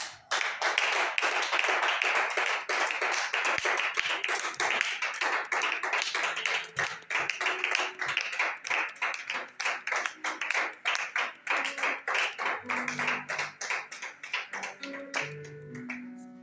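A congregation at a prayer vigil claps in steady rhythmic acclamation, the crisp claps continuing throughout, with tonal singing or music joining more clearly toward the end.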